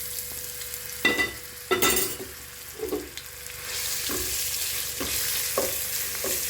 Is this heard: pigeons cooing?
no